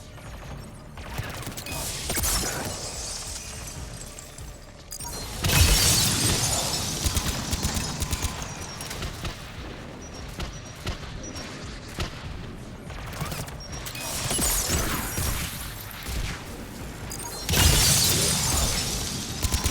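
Sci-fi gunfire in the Mass Effect 3 Legendary Edition video game, with dense, continuous bursts of shots and crackling impacts that surge loudly in waves throughout.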